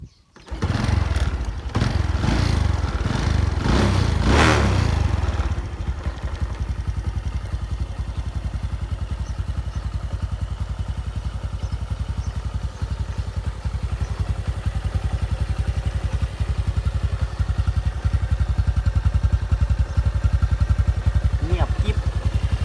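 A Honda Wave 125 motorcycle engine starts with a few clattering bursts, then settles into a steady, close idle that runs on evenly for about twenty seconds, with no talk over it.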